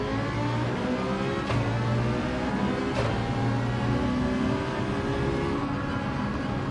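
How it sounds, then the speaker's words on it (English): In an Adrenaline GT sim-racing event at Autopolis, a race car engine revs out high and sustained, a loud, steady whine with shifting pitch and no voices over it. "You can hear his car revving out pretty high."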